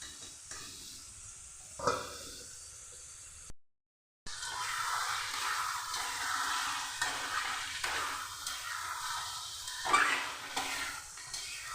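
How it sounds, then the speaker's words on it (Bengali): Chicken being kosha-style stir-fried in a covered pan, with a steady soft sizzle and hiss, occasional scrapes and clinks of a utensil against the pan, and one brief pause near the middle. "আমি এভাবে লাগাতার একবার করে ঢাকনা দিয়ে ঢেকে ঢেকে চিকেনটাকে কষে নেবো"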